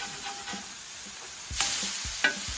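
Smash burger patties for a fried jalapeño bacon double smash burger sizzle steadily on a hot griddle, with a few sharp scrape-and-flip impacts from a spatula near the middle and end.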